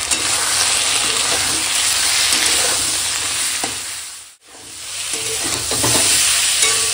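Vegetables with ground spice paste, turmeric, dried chili powder and salt being stir-fried for a rohu fish curry. The pan gives a loud, dense, continuous sizzle with stirring scrapes, and the sound briefly drops out near the end before coming back.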